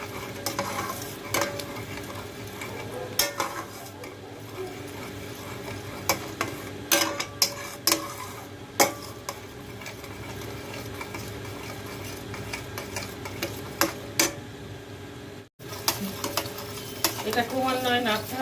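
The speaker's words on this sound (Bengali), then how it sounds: "এবার সব কিছুকে আমি কষতে থাকবো যতক্ষণ পর্যন্ত না তেলটা ছেড়ে ছেড়ে আসছে" Onion and turmeric masala with chilli powder and cashews sautés in oil while a spoon stirs and scrapes the pan in repeated strokes over a steady sizzle, with a brief silent break near the end.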